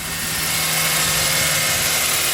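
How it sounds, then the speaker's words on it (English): A Toyota Sienna minivan engine, just revived after a fully drained battery, runs loud and close with a steady broadband roar and a low droning hum, holding constant with no voices over it. "The engine starts perfectly up."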